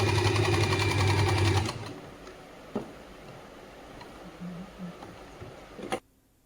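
A sewing machine stitches an Afghani salwar, running in a loud, steady whirring burst for under two seconds, then falling quiet with only faint clicks and handling noises.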